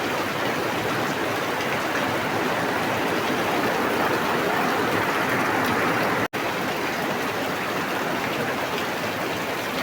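Heavy rain pours down in a dense, steady hiss of countless drops, loud and unbroken apart from one brief dropout, with no voices.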